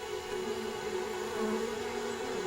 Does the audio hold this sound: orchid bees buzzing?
yes